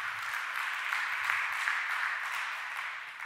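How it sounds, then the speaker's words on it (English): Steady audience applause at a startup competition grand final, a dense even wash of many hands clapping at moderate distance, with no talk over it. "So please spend a big applause."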